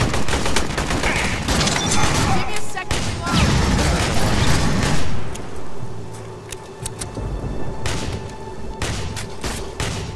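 Dense gunfire fills a firefight in the video game Aliens: Colonial Marines, with loud overlapping bursts and rapid shots that ease into sparser single cracks toward the end. No voices are heard.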